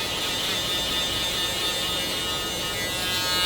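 An electric shaver buzzes steadily and continuously at close range during a military skin fade haircut with detachable blades, a dense even hum with no talking.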